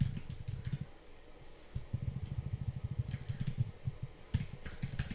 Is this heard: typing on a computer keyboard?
yes